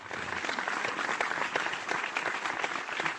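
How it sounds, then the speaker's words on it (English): A group applauds in a room, steady dense clapping at moderate volume that holds evenly with no voices over it. "I do want to give her the big claps though."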